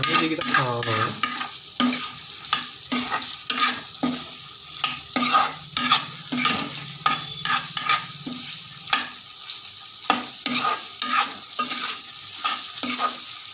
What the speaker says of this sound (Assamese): ধুনীয়াকৈ ভাজি দিছোঁ।